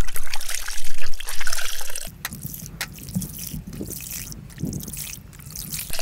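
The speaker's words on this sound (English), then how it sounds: "Or wring these out, not rinse them." Soaked, very dirty laundry is wrung out by hand over a bucket of water: a strong, close trickle streams for about two seconds, then gives way to softer drips and small splashes.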